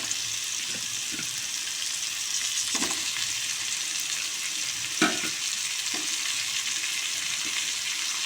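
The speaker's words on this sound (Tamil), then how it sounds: "நம்ம அள்ளி வச்சுருக்குற முள்ளங்கி, வெள்ளை முள்ளங்கி போட்டு அது கொஞ்சம் நல்லா வதங்கணும்." Onion and white radish sauté in a hot pan for a Tamil-style eral kuzhambu, a steady broadband sizzle throughout with a few soft spoon scrapes and taps, close and unbroken by talk.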